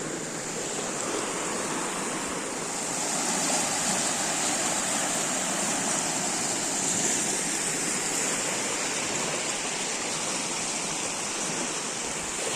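A river flowing behind the Satt Mahadev temple at a Gir forest camp site, heard as steady broadband rushing water, continuous and fairly close with no talking.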